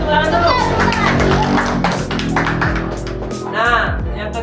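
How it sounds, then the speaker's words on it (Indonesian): Children in a classroom break into a burst of rhythmic clapping, loud and close, mixed with lively kids' voices and chatter throughout. "Tepuk dulu."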